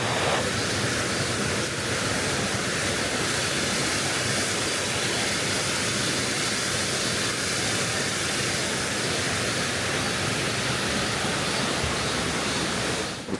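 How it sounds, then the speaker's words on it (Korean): Mountain valley stream near Seoul in late summer, pouring over rocks like a waterfall, a dense, steady rush of water heard up close, loud and unbroken, with no voices. "바위를 타고 흐르는 계곡물이 마치 폭포 같아서 시선을 끄네요."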